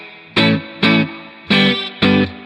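Four separate clean-tone electric guitar chords strummed through a Fender Super Reverb amp miked with two mics, each ringing out briefly and decaying before the next, with short pauses between.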